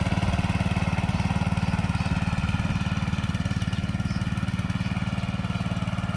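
A small walk-behind mini tractor ploughs a vegetable plot, its single-cylinder engine chugging in a fast, even, close-up putter that stays steady throughout, with no voices over it.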